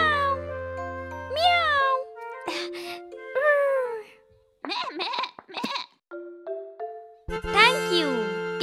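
A voice imitates a cat, giving several drawn-out, rising and falling meows separated by short pauses, close and clear.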